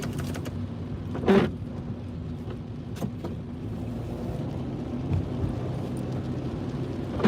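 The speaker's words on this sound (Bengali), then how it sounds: "তো এখনো প্রচুর বৃষ্টি হচ্ছে" Steady, dense rain noise pours down continuously, with a brief louder rush or rumble near the start and a few faint knocks.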